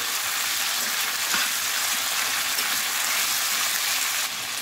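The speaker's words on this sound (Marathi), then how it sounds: "याला आपण मस्त आता 5 मिनिट कमी आचेवरती फ्राय करून घेऊ" Large-cut tomato pieces frying in a pan over a low flame, giving a steady, even sizzle and crackle throughout with no talk over it.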